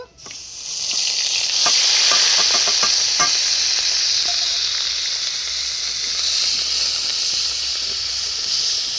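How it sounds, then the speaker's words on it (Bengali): Ginger, garlic and onion paste, ground together on a grinding stone, hits hot oil in a wok with a loud sizzle, a few sharp spatula scrapes and clicks early on, then a steady close hiss of frying. "আদা রসুন পেঁয়াজ একসাথে পেস্ট করে আমি কড়াই দিয়ে দেব।"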